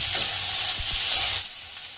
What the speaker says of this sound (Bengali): তারপর দিয়ে দেবো কেটে রাখা আদা, কাঁচা লঙ্কা আর টমেটো।